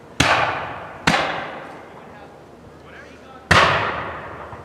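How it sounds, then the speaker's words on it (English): Musket volleys fired from the sides of a fort during a battle reenactment at Fort Dobbs: three sharp outdoor reports, two close together and one after a pause, each trailing off in a long echo. "now they're shooting from the sides of the fort"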